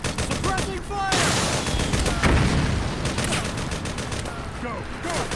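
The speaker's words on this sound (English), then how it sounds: "Fire! Suppressing fire!" Gunfire in the video game Metal Gear Solid 4 rattles in loud, rapid automatic bursts with a few heavier shots, continuing with little pause, and a voice briefly shouts over the combat.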